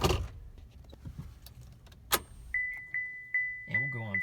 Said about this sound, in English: So I'm just gonna park the truck here.